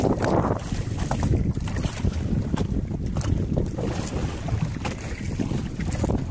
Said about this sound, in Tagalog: Biglang lumakas yung hangin.